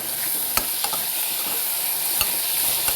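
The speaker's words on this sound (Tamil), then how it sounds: "நம்ம தக்காளி சேர்த்து வதக்குறோம்." Tomatoes being sautéed in a pan for pudalangai kootu, a loud continuous hissing sizzle with a few faint taps of stirring, close and without speech.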